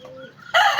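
A white fighting rooster gives a short, sharp crow that bursts in loudly and close after a brief quiet moment.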